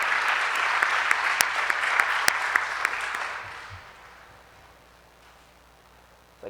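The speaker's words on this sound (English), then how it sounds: "Round of applause." An audience at a spring honors program celebration gives a round of applause, steady clapping with a few sharp individual claps, tapering off after about three seconds into near silence.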